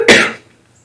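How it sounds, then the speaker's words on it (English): A single short cough from a woman recovering from COVID, close and fairly loud, a sharp burst that fades within a fraction of a second into quiet. "I've still got a little bit of a cough"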